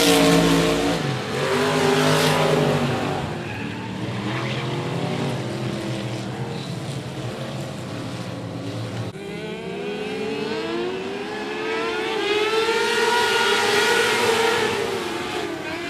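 Dirt track race cars roar through a heat race at 105 Speedway, their engines loud and sustained, rising and falling as they pass close by, with faint commentary underneath.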